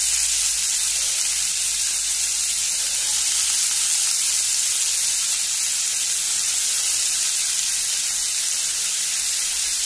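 Chopped onion and tomato sizzle loudly in hot oil in a pan for a Goan-style egg curry, a steady, dense hiss that runs unbroken and close throughout with no talking.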